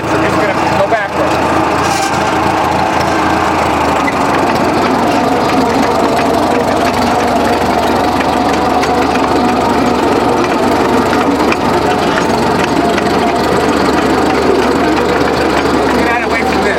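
A 1932 Caterpillar Model Ten dozer engine runs loud and steady as the machine backs up in reverse, a continuous mechanical clatter and rumble filling the whole stretch with no break.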